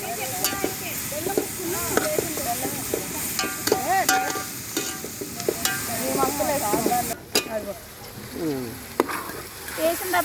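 Kanda bachhali curry of yam and Malabar spinach sizzles in a pan while being stirred, with scraping strokes and frying crackle, and people talk over it.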